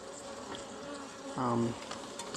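European honey bees swarm over comb hidden inside a wall, a close steady buzzing hum with one brief louder surge of a bee passing near.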